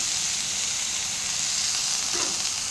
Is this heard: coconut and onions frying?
yes